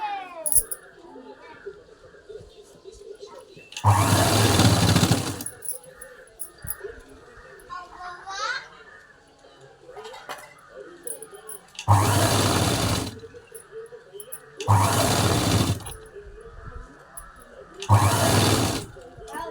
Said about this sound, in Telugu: పైనుంచి ఇలా స్టిచ్ చేసుకుంటూ వచ్చాను